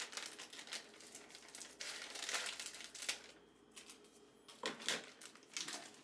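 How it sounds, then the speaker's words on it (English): Plastic food package for a slow-cooker tamale pie mix being cut open with small scissors, giving close crinkling and rustling in uneven bursts with brief snips, no talk. "we are going to open it up with our little scissors"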